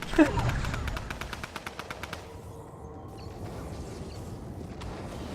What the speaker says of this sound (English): Alright, there's the gunfire, so obviously he's got enemies on him.